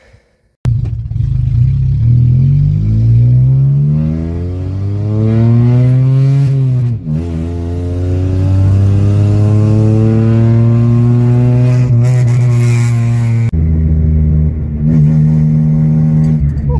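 A Geo Metro engine revs loud and close, its pitch climbing in repeated sweeps, dipping briefly, then holding a steady high drone before easing off near the end, with no voices.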